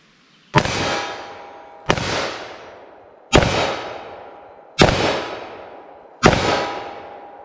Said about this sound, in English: Now 357 Magnum, quite a bit more recoil here.